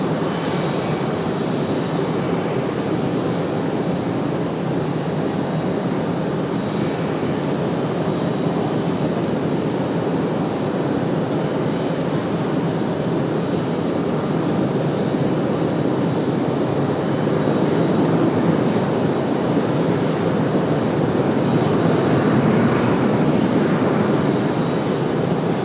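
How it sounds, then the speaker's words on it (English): A large airliner arriving at Raleigh-Durham airport on a short flight from Charlotte, its engines making a broad continuous rumble and whine. The sound swells slowly and gets a little louder toward the end, with no voices. "Again, this one, 28 minutes from Charlotte. Short flight for a big aircraft."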